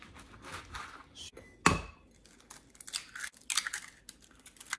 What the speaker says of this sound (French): On va couper le pain, tout simplement,